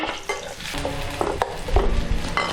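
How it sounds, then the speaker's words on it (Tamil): Onion and garlic sautéing in hot oil for a Chettinad lentil-ball curry, with a steady sizzle and fry and repeated stirring scrapes and knocks from a utensil in the pan, close and fairly loud throughout. "எண்ணெய் காஞ்சதும் இந்த வெங்காயம், பூண்டு இதை லேசாக வதக்கிட்டு"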